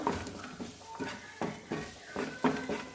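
Mustard seeds, cumin and curry leaves frying in butter in a pan, with soft sizzling under repeated clinks and scrapes of a spoon stirring against the vessel at close range.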